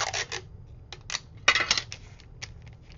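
Clear adhesive tape handled while sealing a loaded paper envelope, giving a few short crinkly rips and taps in separate bursts, close and fairly quiet.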